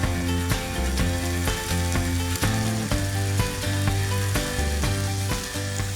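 Lamb backstraps fry in a hot pan, a continuous sizzle broken by regular ticking pulses, close and even throughout with no voices.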